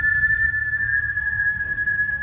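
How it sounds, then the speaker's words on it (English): A steady, high-pitched whistle held without a break, with low rumbling noise underneath. "from its throat came that same whistle"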